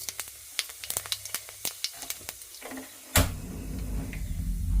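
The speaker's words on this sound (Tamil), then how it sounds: "எண்ணெய் விடுவோம். ரைட், கொதிக்கட்டும்" A few light taps and clicks, then a sudden burst into steady, close sizzling of hot cooking oil in a pan that continues to the end.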